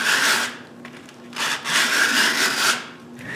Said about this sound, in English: I sand them flat